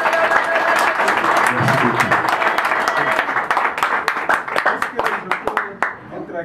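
A crowd at a political gathering in Goma applauds an honoree with loud, dense clapping that breaks into sharper, scattered claps as it winds down, with voices mixed in.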